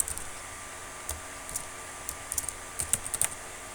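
Python code being typed on a computer keyboard during a programming lesson: quiet, irregular key clicks in small bursts, sparse at first and then quicker clusters, close and alone without speech.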